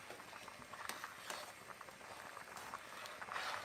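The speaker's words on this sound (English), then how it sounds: "It's bubbling." Quiet, irregular bubbling and popping of sopa with shell pasta boiling in a pot, with small crackles scattered throughout at low volume.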